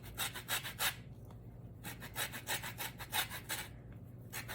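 Fresh orange peel is scraped against a zester in quick, rhythmic rasping strokes, close and fairly quiet, with brief pauses between bursts.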